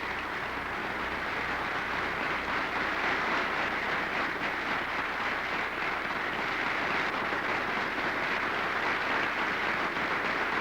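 An air show crowd applauding an aerobatic champion and his Pitts Special biplane, a dense continuous patter of clapping from many hands, steady and fairly even throughout.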